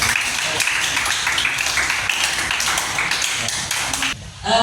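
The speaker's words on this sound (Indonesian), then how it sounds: "Oke, tepuk tangan dulu buat ini." A group claps together in a classroom teaching session, a dense, steady wash of applause lasting several seconds before it breaks off abruptly near the end.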